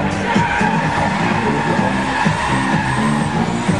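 A drift car at a Latvian Drift Series competition skids and nearly spins 360 degrees, its tires squealing loudly and continuously over engine roar for a few seconds.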